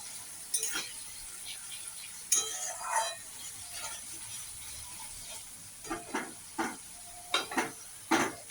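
Spice masala sizzles faintly in oil while a spoon scrapes and clinks against the pot in irregular bursts, growing more frequent toward the end.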